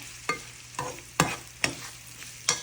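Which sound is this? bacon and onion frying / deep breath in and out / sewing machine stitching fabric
bacon and onion frying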